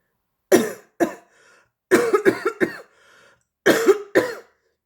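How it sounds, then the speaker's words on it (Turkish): Several bursts of dry coughing from one person recovering from COVID-19, in short clusters of two to four coughs separated by brief pauses, close and clear. "öksürüm devam ediyor"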